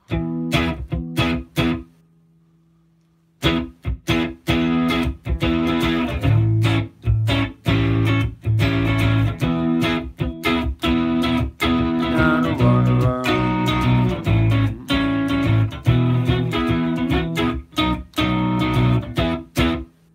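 Strummed electric guitar chords played through a Headrush amp-modeling rig ring out with a soft wash of reverb trailing behind them, played steadily after a brief pause.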